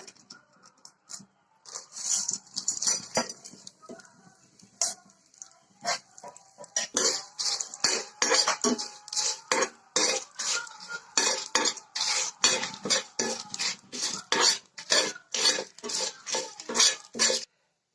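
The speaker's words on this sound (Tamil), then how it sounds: "ஒரு ஸ்பூன் எண்ணெய் ஊற்றிக்கலாம் அதில் நம்ம எடுத்து வச்சுருக்க அந்த மசாலாலாம் ஒன்று ஒன்றா சேர்த்து ஃப்ரை பண்ணிக்கலாம்" Spice masala frying in oil in a pan for an egg curry, stirred with a utensil that scrapes and clinks against the metal in a steady, repeated rhythm, close and moderately loud, with no talking.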